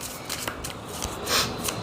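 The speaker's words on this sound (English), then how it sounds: "Want me to give a good shuffle." Tarot cards being shuffled by hand, a quick run of soft papery riffles and flicks with one fuller burst near the end, close and fairly quiet.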